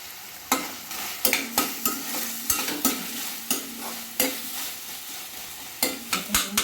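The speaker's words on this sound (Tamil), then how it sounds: "கொஞ்சம் ஸ்லோ ஃப்ளேமில் வச்சு தக்காளி கொஞ்சம் வதங்குற அளவுக்கு வதங்கட்டும்" Tomatoes sautéing on a slow flame for kottu parotta, a soft steady sizzle broken by a run of sharp, repeated clatters of a spatula stirring and scraping the pan, close and alone with no voices.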